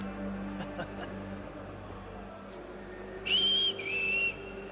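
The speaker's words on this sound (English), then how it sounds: "What's the whistle about?" A short two-part whistle in the game Assassin's Creed III, a bright rising then falling note that sounds clearly over a low ambient game soundscape, with no talk during it.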